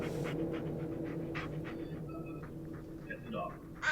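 A dog in the Blair Witch video game pants steadily in quick, soft rhythmic breaths, with people talking over it.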